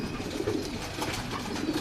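A pigeon coos nearby in low, soft, repeated murmurs over a steady background, with no voices.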